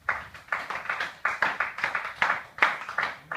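Church congregation clapping in steady rhythmic unison, a dozen-plus sharp claps in quick regular beats, close and lively, with no voices over it.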